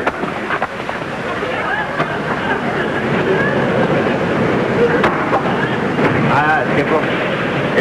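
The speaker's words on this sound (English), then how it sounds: "We've got an angry sea down there." Stormy sea and howling wind effect from a radio drama, a dense continuous rush of surf and gusts with creaks and splashes throughout.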